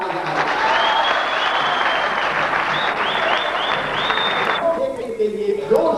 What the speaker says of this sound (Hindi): ताली ऐसे बजाओ